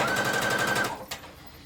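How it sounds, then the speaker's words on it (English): A sewing machine runs a gathering stitch across dress fabric, a rapid, even mechanical rattle that holds for about a second before cutting off, followed by a single faint click. "I'm going to put in a gathering stitch here and a gathering stitch here as well"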